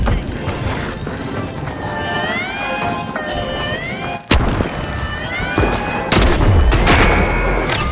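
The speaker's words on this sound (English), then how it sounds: "Using pyro grenade!" A pyro grenade goes off in the game The Finals with a sharp burst and a crash near the middle. Tonal whines and mechanical game effects run throughout, and a second heavy surge follows later.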